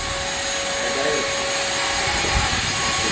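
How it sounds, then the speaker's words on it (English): A car's roll cage being rubbed down during a strip-down, producing a steady, continuous abrasive scrubbing hiss that stays fairly loud and even, with no talk over it. "Rubbing the cage down."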